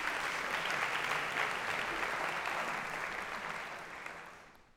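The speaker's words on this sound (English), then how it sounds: "Let's move this back so we get more of a natural decay on the applause." Applause from a recording fills the clip, a dense steady patter of many clapping hands that gradually decays and fades out near the end.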